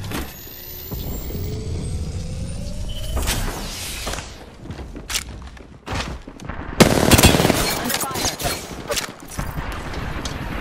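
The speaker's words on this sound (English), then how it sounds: "Nine shots fired and they're hitting me." Gunfire hitting the player in the Apex Legends video game, a burst of loud, sharp shots and impacts over a busy layer of game noise, with a brief voice heard.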